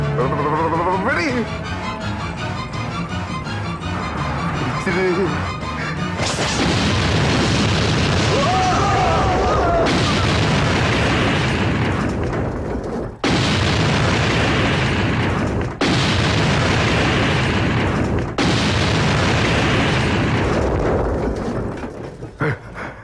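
Loud booming blasts erupt several times over a dense, roaring background, with people shouting and talking throughout, in a movie action scene.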